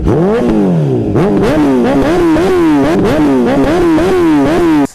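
A Honda CBR1000RR's custom-made Hyper Flow aftermarket exhaust barks through a series of sharp revs, the engine pitch climbing and dropping repeatedly, loud and close.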